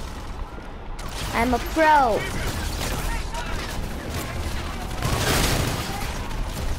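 Video game gunfire: a sharp crack of shots opens the sequence, followed by ringing whine-like tones and a later loud burst, with a person talking briefly over the action.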